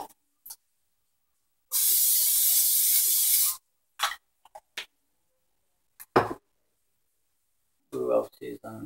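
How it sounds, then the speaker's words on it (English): Cooking spray hisses into a large frying pan in one steady burst of about two seconds, close and clear, followed by brief clinks and handling noises, with a voice speaking near the end. "Same thing, cooking spray."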